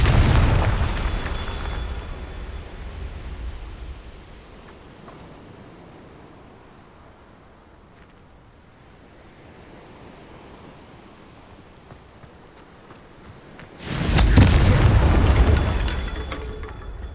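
A Confringo fire spell detonates in Hogwarts Legacy, a loud, deep booming blast at the start that rumbles away into a low ambient hush, followed by a second heavy explosion near the end.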